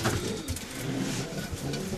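Racing pigeons coo in a breeder's loft, a soft low rolling murmur close by, with faint background rumble.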